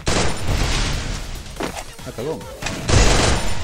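Gunfire in a video game PvP match: dense bursts of shots and booms fill the clip, loud and close, with a voice shouting briefly over the firing.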